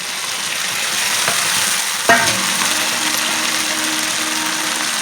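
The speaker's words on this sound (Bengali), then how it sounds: "আমরা সব কিছু উপকরণ ভালো করে কষিয়ে নিই এবার দিয়ে দিচ্ছি ভেজে রাখা চিকেন" Fried chicken pieces drop into masala with capsicum and onion in a kadai and get stirred, a loud steady sizzle with a sharp metallic clank of the ladle partway through, close up and without talk.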